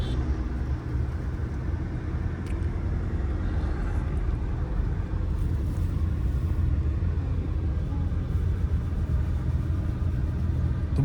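A car being driven by a learner as speed is gently raised, heard from inside as a steady, low engine and road rumble that holds an even level throughout.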